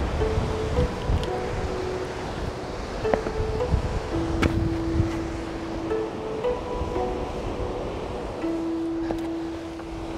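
Wind and ocean waves on the rocky coast at Point Lobos: a steady broadband roar of surf and gusting wind, with faint intermittent tonal hums in the background and no talking.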